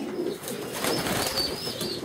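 A prize-winning racing pigeon cock coos softly in low, throaty murmurs, close by, with faint ambient noise and no speech.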